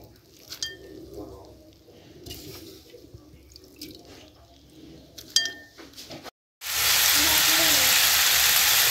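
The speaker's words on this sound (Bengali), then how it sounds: "করলা ভাজি কড়াই দিচ্ছি" Freshly washed bitter gourd dropped into a hot wok bursts into a loud, steady sizzle of frying after a few seconds of quiet clinks and rustling kitchen handling.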